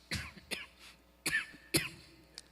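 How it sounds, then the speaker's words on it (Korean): A man lecturing to a church elders' gathering coughs several times in short, sharp bursts spread over a couple of seconds, close to the microphone with no talk between the coughs. "제가 좀 기침을 하네요"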